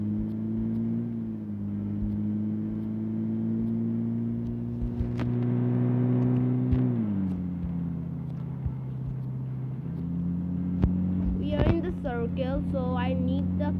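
Engine drone of a car driven in PUBG, a steady in-game motor with pitch shifts as it speeds and slows, with a short burst of other game sounds near the end.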